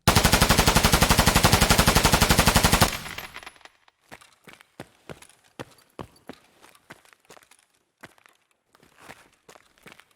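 Rapid automatic gunfire in a video game, a loud sustained burst of closely spaced shots for about three seconds, then scattered lighter clicks and thuds that fade into near silence.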